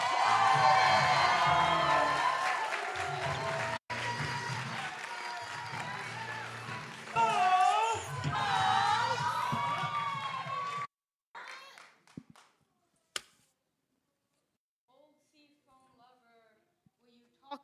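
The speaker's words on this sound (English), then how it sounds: "Please give a warm Youth Speaks round of applause for our" Crowd at a teen poetry slam semifinal cheers, whoops and claps loudly for several seconds, the applause cutting off abruptly, followed by near silence with a few faint scattered noises.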